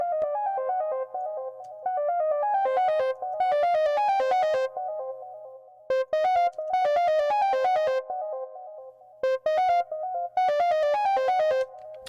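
A bright, buzzy synth melody in Pigments, with soft clip distortion, plays in short repeating phrases with gaps between, its tone slightly gritty and saturated.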